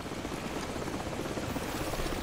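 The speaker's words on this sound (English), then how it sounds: "The helicopter's back." Helicopter in the video game Call of Duty 4: Modern Warfare, a steady, loud rotor and engine drone that holds evenly with no talking.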